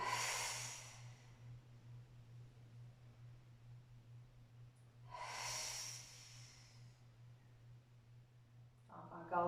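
Two long, airy exhalations during a guided breathing exercise, close and soft, with a quiet pause between them and a low steady hum underneath.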